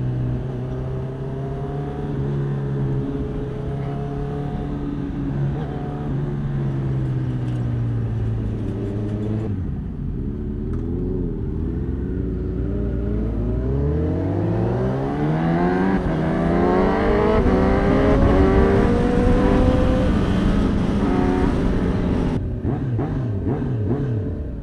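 A Honda CB1000 Hornet SP inline-four motorcycle with a slip-on exhaust drones steadily, then drops and revs up again in rising sweeps, loud and close throughout with no voices.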